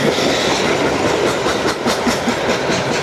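A train rolls past on the tracks near Madisonville, Kentucky, loud and close, with steady clickety-clack wheel beats over a continuous rumble and no voices.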